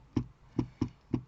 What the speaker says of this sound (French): je prends le ciseau et ça coupe le papier